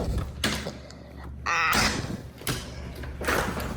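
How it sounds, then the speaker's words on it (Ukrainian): An indoor door opened to the outside, giving a few separate scraping and thudding bursts with a sliding, rattling quality, fairly close, amid quiet room noise. "тут потрібно відчинити двері"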